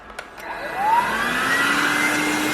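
A 3 in 1 cordless stick vacuum cleaner revs up after two small clicks, its motor whine climbing in pitch and then settling into a loud, steady close-up roar.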